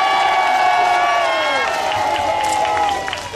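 A rally crowd at a national gathering near Seoul Station cheers and shouts together in a loud, sustained roar of voices that fades slightly at the very end.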